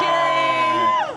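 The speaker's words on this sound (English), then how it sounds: "Corso holding up the helmets, people booing, people" Stadium crowd at a college football gameday booing and cheering as the coach Corso holds up mascot helmets, a loud sustained roar with whoops and shouts that swells and then dips at the end.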